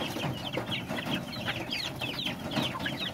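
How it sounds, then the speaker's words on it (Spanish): Free-roaming hens on a small poultry farm cluck and chatter in a steady, fairly quiet stream of short, repeated calls, with no speech. "Ahí están las gallinas que están sueltas."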